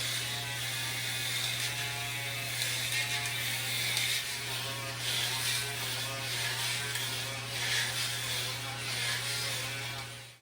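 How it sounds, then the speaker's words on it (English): An Andis TS1 electric head shaver runs continuously close to the microphone, a steady high buzzing whir with a strong constant hum underneath, alone and without talk. "The head shaver I use is an Andis,"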